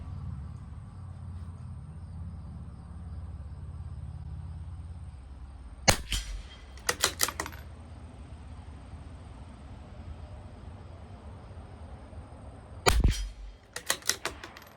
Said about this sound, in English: we'll go to the bottom and shoot another 5